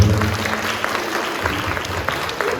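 An audience claps for the orchestra at a school annual report concert, a steady, moderately loud wash of applause from a crowd throughout.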